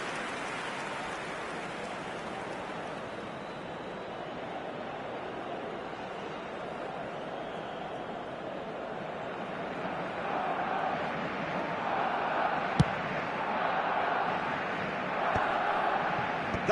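Crowd applauding in an eFootball match stadium, a broad hissing wash of clapping and cheering that swells louder in the second half, steady and distant-sounding throughout.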